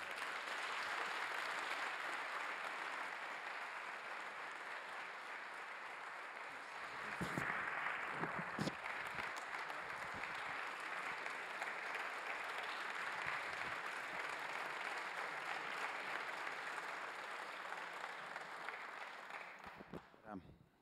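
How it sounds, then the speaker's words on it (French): An audience at a conference on Africa's emergence applauds after a speech, sustained dense clapping throughout that swells briefly partway through and then fades out near the end. "vous avez perçu le caractère nourri des applaudissements qui ont salué votre intervention"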